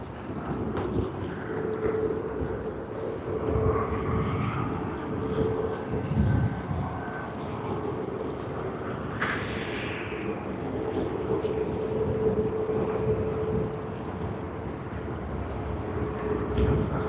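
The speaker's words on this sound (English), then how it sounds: "we have Qantas's Boeing 787-9 Dreamliner coming in from Vancouver, Canada" Qantas Boeing 787-9 Dreamliner arriving from Vancouver and landing at Sydney Airport in early morning peak hour, a distant sustained jet roar that swells and fades with wind buffeting, faint and far off with no talk.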